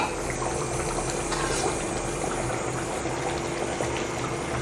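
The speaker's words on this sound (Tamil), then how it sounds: "நல்லா கொதிச்சிருச்சு பாருங்கள் குழம்பு." Chettinad chicken curry simmers in an open pot, a steady soft bubbling and gurgling of thick gravy at close range, continuous and fairly quiet.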